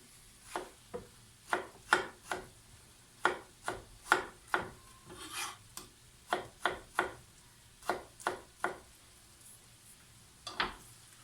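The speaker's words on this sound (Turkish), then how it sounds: "Son domateslerimi de kalın kalın küpler halinde doğruyorum." A knife cuts tomatoes into thick cubes on a board for a home rakı and fish spread, a steady run of about twenty crisp, close chopping strokes in an uneven rhythm with short pauses between.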